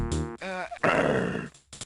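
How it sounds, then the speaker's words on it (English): A guard dog in a video game gives a short, close growling bark that rises into a longer rough snarl, all within about two seconds and with no talk over it. "Uh-oh, a guard dog."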